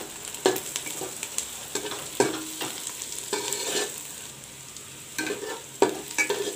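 Onions frying for a Bhuna Jeera mutton curry, a steady close sizzle broken by repeated scraping stirs of the spatula against the pan, several louder strokes spaced irregularly through, no talk.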